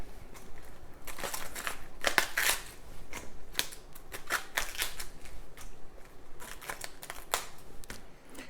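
Crisp, crunchy snaps and cracks as big leaves are broken off a raw cauliflower, several sharp bursts in quick succession over a steady close-up rustle.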